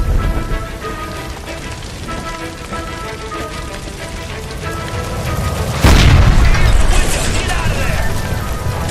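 A gas line explodes in L.A. Noire. A steady rain-like hiss runs under the start, then a sudden loud boom hits near the end and rolls on into a rumbling, crackling tail.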